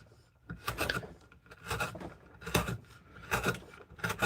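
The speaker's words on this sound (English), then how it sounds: "this gouge will cut on the upward stroke as well," A gouge cuts into a willow bowl in repeated scraping strokes, about five rhythmic rasping passes, close and moderately quiet.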